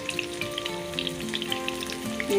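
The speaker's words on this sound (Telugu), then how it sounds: "ఇదిగోండి వేగుతున్నాయి బెండకాయలన్నీ" Stuffed okra (bendakaya) with masala frying in a pan, a steady close-up sizzle with light crackling pops that carries on evenly throughout, with a faint tonal hum running beneath it.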